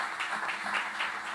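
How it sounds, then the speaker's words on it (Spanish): Concert audience applause, a steady wash of many hands clapping heard at moderate level throughout the short moment, with no voices over it. "Para ellos son los aplausos de ustedes"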